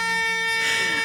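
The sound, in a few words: air horn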